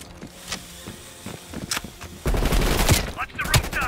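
Gunfire in Call of Duty: Black Ops Cold War on PS5, with scattered shots early, then a loud sustained burst of firing and clatter in the second half, under faint talk.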